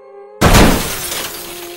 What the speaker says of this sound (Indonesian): Tiba-tiba, sesuatu menghantam bagian belakang mobil mereka.